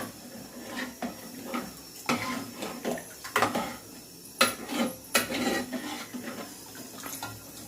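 Masala and water being mixed in a metal cooking pot for chicken curry, with irregular scraping and clanking of a spoon against the pot, close and fairly loud, no talking.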